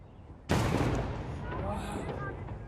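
A fireworks cannon fires with one sharp, loud blast, followed by a rumbling, crackling tail that slowly fades, with faint voices behind.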